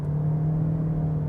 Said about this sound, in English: I don't like the noise that you get out of the hybrid system